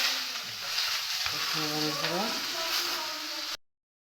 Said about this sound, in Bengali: তেল দিয়ে দিলাম, এবার দিচ্ছি শুকনো লঙ্কা, তেজপাতা, জোয়ান, এবার দিচ্ছি পাতাকপি